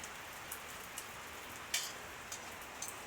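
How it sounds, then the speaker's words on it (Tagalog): Steady rain hisses softly and evenly behind a flooding house near a bamboo grove, with a few sharper drips and taps standing out now and then. "Uulan-ulan, babaha na sa likod."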